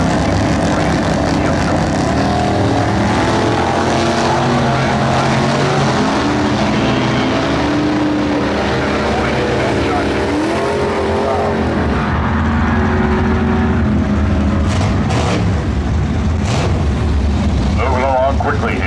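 Loud, continuous engine roar from hot rod drag racing cars, a 1968 El Camino and a Tri-5 Chevy, fills the whole stretch with a steady rumble; an announcer talks over it.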